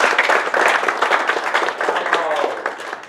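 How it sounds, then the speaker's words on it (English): An audience claps after a talk on Frederik Henrick af Chapman and the marine museums of Sweden, giving dense, close applause that holds steady throughout, with some crowd murmur mixed in. "Please give Rob another big round of applause."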